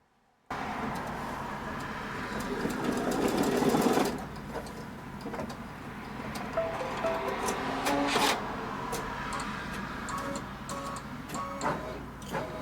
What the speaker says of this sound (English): the machine is going to mark where that elastic needs to go